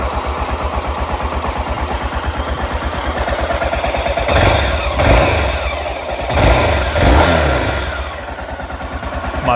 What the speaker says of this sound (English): I realised I can't have a video of a motorcycle without at least providing some sort of engine note.